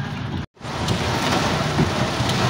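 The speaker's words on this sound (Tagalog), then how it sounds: "Yan po, malakas ang ulan." Heavy rain pours steadily during Typhoon Carina in Bulacan, a dense, loud, continuous hiss and rumble that drops out for an instant near the start before resuming.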